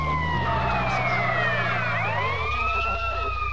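Ambulance siren in GTA San Andreas, a loud wailing tone sweeping up and down over a low rumbling vehicle engine, continuous and close throughout.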